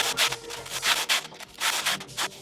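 Thin pant fabric, worn through by sandpaper, tearing wider in a run of close, scratchy rips with short pauses between pulls.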